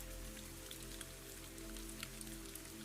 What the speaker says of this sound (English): the rain will continue without your help.